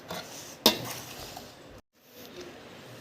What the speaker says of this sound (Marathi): आता हे छान एकजीव करणार आहे